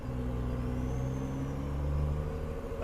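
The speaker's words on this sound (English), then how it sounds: "Get a little Jake break." Diesel truck engine in American Truck Simulator running a Jake brake, a steady deep rumbling drone with low harmonic bands that shift slightly, moderately loud and up close with no talking.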